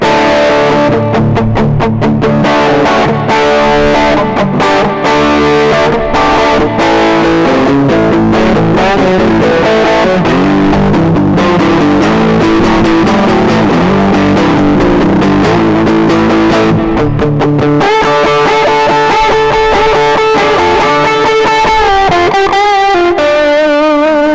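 A Stallion electric guitar on its middle P90 pickup plays through distortion. Loud, sustained, driven chords and riffs ring out alone, with a brighter run of notes near the end.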